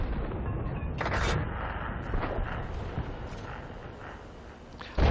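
Tank cannon fire in the World of Tanks video game, with booming gunshots, a clear blast near the one-second mark and another at the very end, over a constant rumbling engine-and-battle background.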